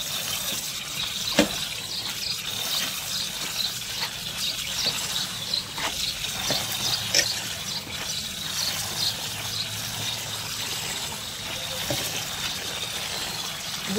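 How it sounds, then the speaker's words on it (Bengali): Leafy greens are swished and rinsed in water, producing soft sloshing and splashing with occasional clicks and knocks, fairly quiet and close by. "শাকগুলো এখন একটু জলের মধ্যে ভিজিয়ে ভালো করে ধুয়ে নেব।"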